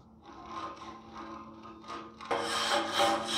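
A wire brush scrubs the gasket groove of a ductile iron pipe with rapid, rhythmic scraping strokes, close and fairly quiet at first, then growing harsher and louder partway through.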